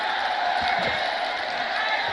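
A large crowd at an election rally for PM Modi in Jaunpur roars and cheers continuously, a dense, loud wash of voices and applause with no pause.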